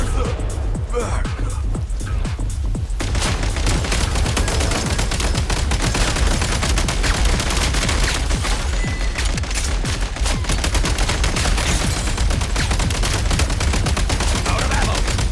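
Sustained gunfire in a video game, dense rapid bursts like automatic weapons firing continuously, loud and up close, with shouted voices mixed in.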